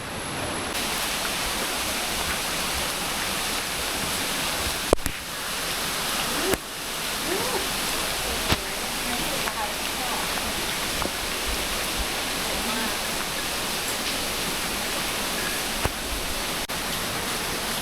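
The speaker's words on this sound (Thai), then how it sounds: "นี่เป็นลำธาร ที่ไหลออกมาจากน้ำตกด้านบนเหมือนกันนะเนี่ย" Continuous rushing water from a stream flowing out of a waterfall fills the scene, a steady broadband flow with a few faint knocks and no clear talk.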